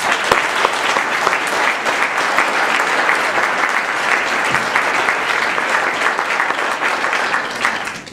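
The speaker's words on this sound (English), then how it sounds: "So let's give them one more round of applause." Loud, close audience applause for a group of students, dense sustained clapping with some individual claps standing out, continuing for the whole stretch before easing off at the very end.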